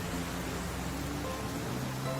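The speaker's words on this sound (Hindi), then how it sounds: "बारिश बहुत तेज है" Heavy rain pours in a steady, dense wash that fills the whole clip at moderate loudness, with no clear voices over it.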